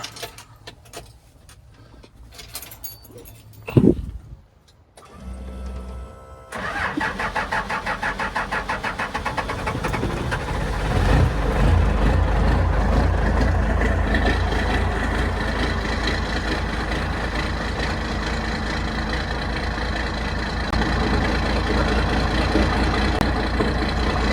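A 1940 Chevy truck engine cranks over and catches after a few seconds, roars up and then settles into a loud, steady, rumbling idle close by. Faint rattles come before the start, and no voices are heard.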